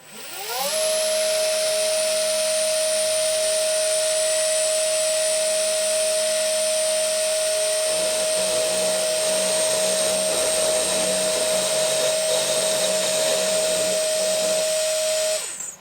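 A milling cutter cuts a slot 1mm deeper in a workpiece for a pull gear speed reducer, giving a steady, loud machining whine with a constant high tone that runs unbroken for the whole stretch and shifts slightly in character partway through.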